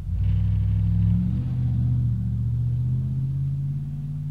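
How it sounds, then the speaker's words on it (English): A big truck passes close by a house, a loud, steady low rumble that swells early and then slowly eases as it drives on, with no talk over it. "Hopefully you can't hear that big truck that just drove by my house."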